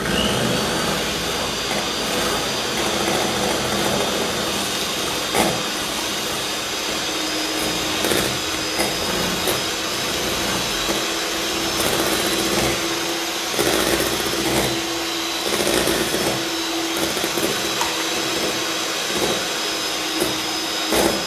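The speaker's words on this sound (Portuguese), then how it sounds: "Essa batedeira aqui também é legal, porque ela pega bem no fundo. Eu tô trabalhando com um pouco de velocidade, né?" Electric stand mixer whipping meringue at moderate speed while sugar is added a spoonful at a time; a steady, close whirring motor drone runs throughout with small rattling fluctuations and no talk.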